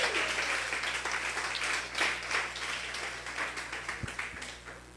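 Church congregation claps loudly for the Lord during a service, a sustained wave of many hands with some rhythmic surges, heard over a low steady hum.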